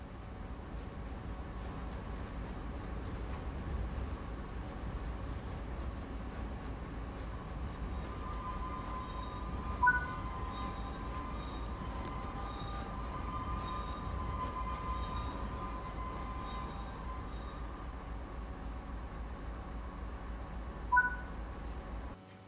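A freight train in Train Sim World 4 brakes to a stop, steady low rumble of rolling cars under high, wavering wheel squeals that come and go, with a couple of faint clicks, no voices.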